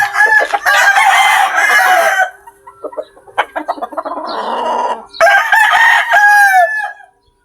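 Chickens and roosters on a poultry farm crow loudly and repeatedly, with long cock-a-doodle-doo calls near the start and again at the end and softer clucking and scratching between them.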